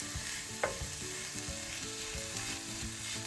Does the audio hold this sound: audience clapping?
no